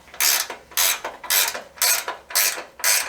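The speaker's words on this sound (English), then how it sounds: "ratchet wrenches make for quick work. So let's crank it down." A ratchet wrench tightens a 19 mm nut on rock sliders being installed on a Toyota Land Cruiser 80 Series, clicking in six even, close bursts at a steady cranking rhythm with no talk.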